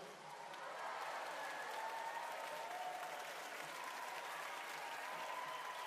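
Concert audience applause in a large arena at a Finnish band's anniversary concert, a dense, steady wash of clapping from a big crowd, heard from a distance and sustained throughout.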